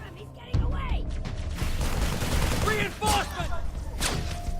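Rapid bursts of red plasma rifle fire in Halo ODST, sharp energy shots with whining, warbling zips over busy battle noise and explosions, loud and close throughout.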